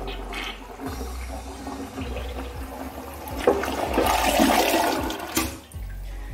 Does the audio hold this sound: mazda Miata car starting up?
no